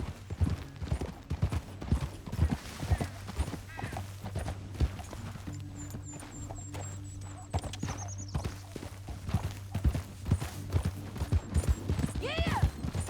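Hooves clip-clop steadily on the ground as a horse moves along a canyon trail in Red Dead Redemption 2, with a brief whinny near the end and faint ambient game sounds underneath.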